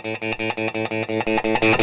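An electric guitar with distortion at full volume plays a rapid run of about eight evenly spaced, heavily driven chugging notes, loud and close, with no talk.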